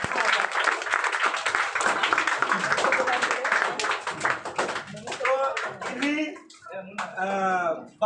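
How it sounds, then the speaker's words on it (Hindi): An audience at a Teacher's Day ceremony claps loudly for teachers in steady, dense applause that thins toward the end, as voices rise and cheer over it. "तो इनके लिए भी जोरदार ताली बजाइए"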